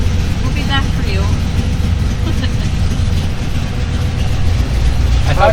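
A 1964 Ford Galaxie engine runs steadily with a deep, loud rumble, constant and close throughout with no talking over it.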